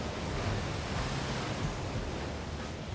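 Ocean surf rolls in a steady, dense roar at a surfing contest, waves breaking continuously with a washy, wind-buffeted hiss and no voices.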